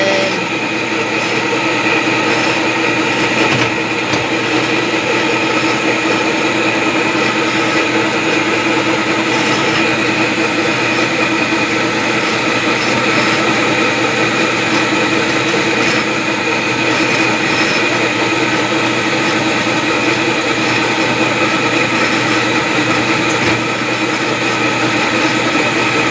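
An electric bread mixer kneading dough for Sputnik bread, a loud continuous mechanical drone with a steady motor hum that runs unchanged throughout, close and alone.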